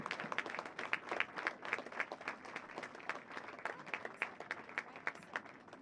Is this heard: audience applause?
yes